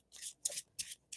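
An oversized tarot card deck is shuffled by hand, four quick crisp riffling swishes of cards in an even rhythm, close and clear with no talk.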